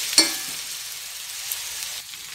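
Crushed ginger, garlic and green chili sauté in hot oil for a prawn gravy, giving a steady soft sizzle with a sharp crackle at the start and light stirring scrapes, no voices.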